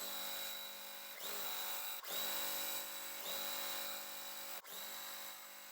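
Electric sewing machine running steadily to stitch precut quilt-kit pieces with a quarter-inch seam, a continuous motor whir with brief pauses and restarts, close and alone without talk.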